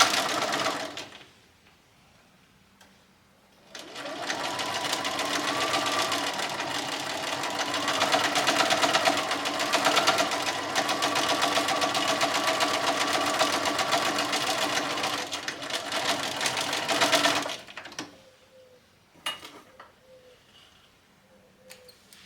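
A sewing machine stitching a lace and appliqued wedding dress runs in one steady, loud continuous burst of about fourteen seconds, then stops, followed by a few faint clicks in a quiet room.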